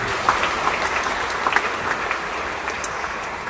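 A church congregation applauds during a Catholic Mass with bishops at Stella Maris Pluit, a steady wash of many hands clapping throughout, moderately loud and reverberant.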